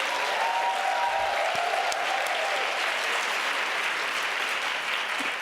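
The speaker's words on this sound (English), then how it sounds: "May I please get a big round of applause for the Creator" Sustained audience applause fills a large hall at a women's conference keynote, a steady dense wash of many hands clapping at once, loud and continuous throughout.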